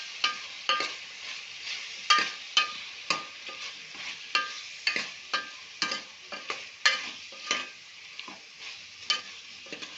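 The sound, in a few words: stirring chili powder into brinjal potato curry in pan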